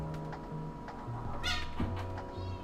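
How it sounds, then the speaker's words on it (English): Cats screaming and fighting in a Pokemon Legends: Z-A game scene, with drawn-out yowls and short meows rising and falling over a steady tonal game background, fairly faint, no talk. "Goddamn cats, man. They keep scratching at each other, they keep screaming."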